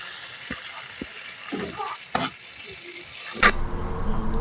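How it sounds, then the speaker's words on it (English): Butter sizzles and crackles in a hot pan, with faint clicks and a louder clatter near the end, the hiss continuing steadily. "while the pan is nice and hot, y'all gonna see that it's nice and sizzling"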